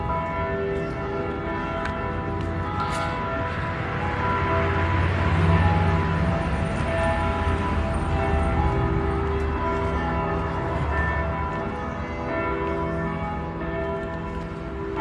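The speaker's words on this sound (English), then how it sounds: "So you can hear the bells ringing." Church bells ring across Savannah at about 8:30 in the morning as the city wakes, sustained overlapping peals that swell and fade over a continuous low outdoor hum.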